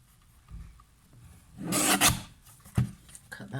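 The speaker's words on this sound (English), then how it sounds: "let's use this little mini trimmer" A small mini paper trimmer slices through paper at a stamping craft table, giving one short, close rasping cut that sweeps through the middle of the clip, followed by a faint thump.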